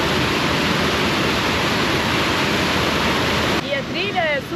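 An infinity-edge waterfall at Poço Negro in Portugal roars as a steady, loud broadband rush of falling water, with faint bird chirps breaking through near the end.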